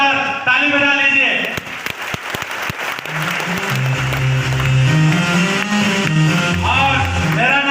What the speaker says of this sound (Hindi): तो एक बार अपने लिए जोरदार ताली बजा लीजिए